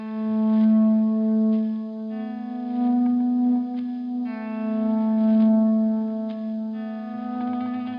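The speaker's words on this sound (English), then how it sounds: "Either I stick with the neck pickup like this" Electric guitar on the neck pickup with effects: sustained, swelling notes with a chorused, echoing, slightly distorted tone, held long and moving slowly, with no talk.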